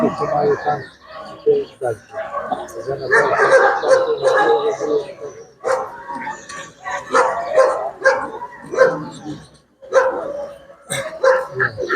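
Russian-European Laika dogs bark at a dog show, with short sharp barks and yips scattered through the ring under frequent nearby talking.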